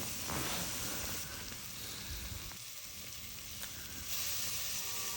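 Biryani masala sizzles and fries steadily in a steel pressure cooker on high flame, a continuous close hiss with scraping stirs underneath.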